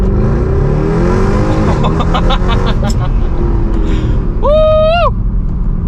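A 2012 Mercedes C63 AMG V8 pulls hard under throttle in manual mode with traction control off, a loud close rising engine roar through upshifts, ending with a whooping voice over it.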